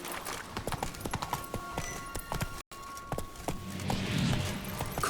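Hooves of Geralt's horse Roach in The Witcher 3, a steady rapid clip-clop of a trotting horse, close and loud over a continuous ambient wash, with a brief neigh.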